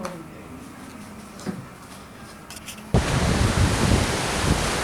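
Quiet background noise suddenly gives way to a loud, steady roar of wind and Atlantic Ocean surf buffeting the microphone on a shoreline in Casablanca, Morocco.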